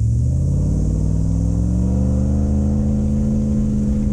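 A Toyota Hilux with an automatic gearbox pulls away in first gear offroad, its engine droning steadily with a low rumble and a pitch that climbs gradually as it accelerates, loud and continuous with no talk.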